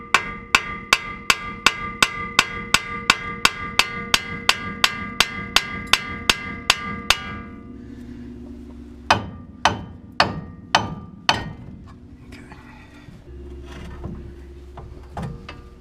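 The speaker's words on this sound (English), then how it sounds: "So go ahead and hit right here on the bottom of the spindle." Metal hammer blows on the bottom of a Ford Ranger suspension spindle during disassembly: a fast, even run of about twenty sharp ringing strikes, then a pause and four or five slower, heavier hits, loud and close.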